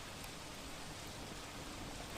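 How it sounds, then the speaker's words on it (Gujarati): Heavy nighttime downpour in Bhavnagar with strong wind and thunder, heard as a steady, dense hiss of rain, faint and continuous with no distinct thunderclaps. "भारे पवन साथे गाजवीज साथे आ वरसादनी स्थिति जोवा मळी छे।"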